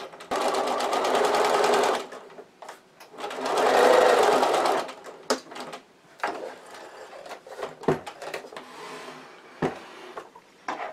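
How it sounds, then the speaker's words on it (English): A sewing machine stitches through a Threaders Fabrikits tablet case fabric in two loud running bursts, followed by quieter handling clicks and rustles of the cloth. "stitch with my machine"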